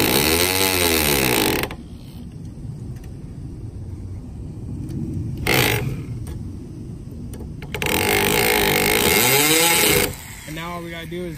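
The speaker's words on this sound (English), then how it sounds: "we're gonna drill those screws in" Power drill driving screws into the trunk of a Honda Civic being modified, heard as several loud, close whining bursts of motor noise separated by quieter pauses with background rumble.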